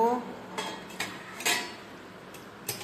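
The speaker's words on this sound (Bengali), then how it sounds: "আবার আমি ঢাকাটা খুলে নেব" Metal pot lid lifted off a simmering pan of mourola fish chorchori, giving a few separate clanks and scrapes at close range, with quiet gaps between them and no voices.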